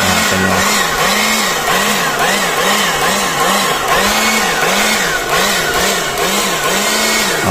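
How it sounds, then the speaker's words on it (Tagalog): A 2-in-1 cordless portable air blower and vacuum whirs loudly up close while drying a motorcycle, its motor pitch rising and falling in repeated surges. "kung paano natin tinutuyo itong ating motor gamit po itong ating portable blower"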